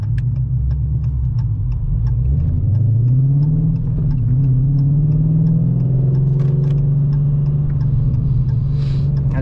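A 2018 Dodge Challenger 6.4 ScatPack fitted with BBK long tube headers accelerates hard, its loud deep exhaust rumble rising in pitch and holding a strong drone close by, with faint ticking over the top.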